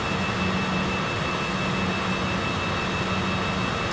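A jet airliner rolls on a runway in Microsoft Flight Simulator, a steady, loud, unbroken engine roar with a faint high whine throughout and no talk.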